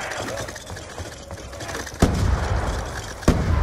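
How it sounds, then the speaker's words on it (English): Grenade explosions in Call of Duty Black Ops 2, two sharp booming blasts a little over a second apart over a noisy game background. "The first grenade exploded and it must have destroyed the second."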